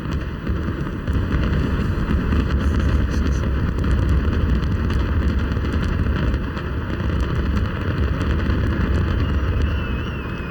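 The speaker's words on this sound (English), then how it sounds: "Probably the most spectacular fireworks we've seen yet." Fireworks bursting over the Eiffel Tower in Paris during a midnight millennium celebration, heard as a dense, continuous roar of explosions and crackle, loud and sustained throughout with no talk.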